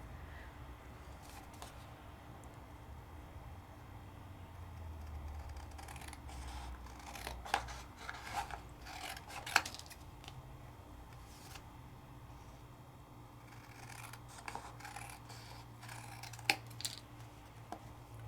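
Scissors snipping paper in a crafting class, a quiet run of soft crisp cuts that come in scattered clusters over a low steady room hum, with no voices.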